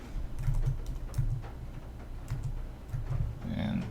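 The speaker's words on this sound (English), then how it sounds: "I'm typing around a microphone here," Quick bursts of keyboard typing, soft clustered key clicks with short pauses between them, fairly close and quiet.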